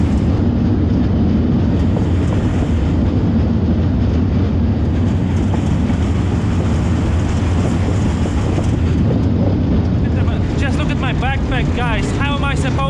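Slow passenger train in Vietnam rumbling along, a loud continuous low roar of wheels and carriage filling the whole stretch, with a rising squeal or chirping noise near the end.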